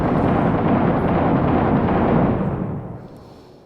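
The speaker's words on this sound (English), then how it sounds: "I'm gonna toss another frag in there." A frag grenade explodes in the military shooter game Six Days in Fallujah, a loud, dense roaring blast that holds steady for a few seconds and then fades away.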